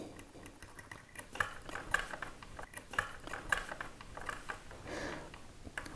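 A toothpick rubs over a waxed Roman coin, producing faint, close scratchy strokes in an irregular rhythm, with small tapping clicks and no talk.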